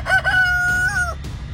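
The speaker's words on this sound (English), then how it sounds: "they do make a really great rooster team" A backyard rooster crows once, close and loud, a single drawn-out cock-a-doodle-doo lasting about a second before fading into quiet yard ambience.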